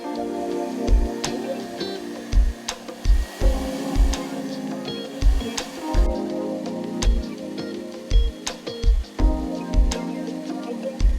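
Hair dryer blowing steadily and loudly while drying the tips of curtain bangs, a continuous whooshing roar with regular low thumps and slight shifts in tone as it moves.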